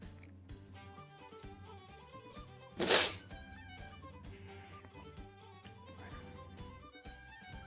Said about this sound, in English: All the sneezes.